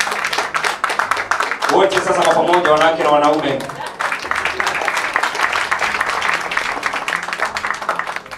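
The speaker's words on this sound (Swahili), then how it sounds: "Wanawake, wapi makofi tafadhali?" Audience clapping and applause at a CD launch event, dense hand claps running through the whole stretch while someone speaks over the crowd from a microphone.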